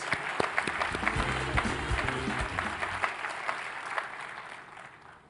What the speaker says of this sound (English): final applause for these awardees.